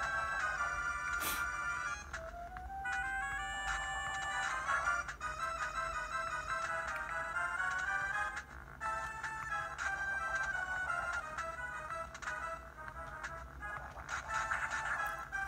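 Chiptune-style Game Boy Advance game music, played on a MIYOO MAX handheld emulator, plays with bright melodic beeps and shifting tones, plus short sound-effect bursts; no voices.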